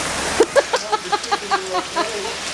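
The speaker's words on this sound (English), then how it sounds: "Look at the hail! It's huge! We got hail." Large marble-sized hail pounds down hard in the high desert, a constant dense clatter, with a voice breaking in over it.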